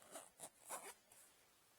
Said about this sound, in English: So I'm going to open my zipper up again